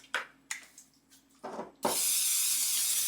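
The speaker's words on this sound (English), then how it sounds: "I'm going to spray the dish" A few short taps and clicks, then a sustained, steady hiss of an avocado oil cooking spray being released onto a glass dish.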